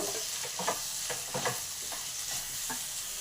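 Salted tomato pachadi with tamarind is mixed in a pan, a spoon scraping and stirring in quick repeated strokes over a faint sizzle, close and without talk.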